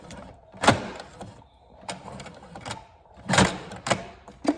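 A sewing machine stitches forward through elastic for a scrunchie in short, quiet, irregular bursts of mechanical whirring, separated by pauses.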